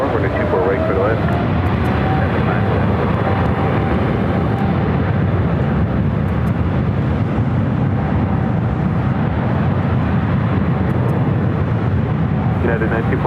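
Heavy Boeing 777 jet landing at Los Angeles airport on runway 24 right, a loud continuous roar of engines that stays strong throughout, with radio talk over it.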